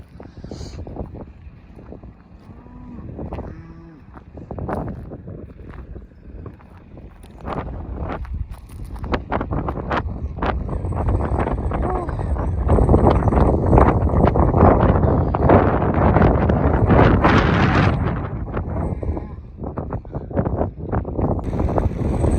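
Gusty wind buffets the microphone with rumbling, crackling bursts that build steadily louder and stay strong, with occasional faint clatter in the background.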